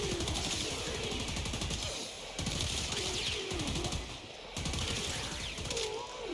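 Rapid, continuous bursts of weapon fire from a crit-build Laetum pistol in the Warframe video game, with short pauses between volleys over a steady, busy game soundscape.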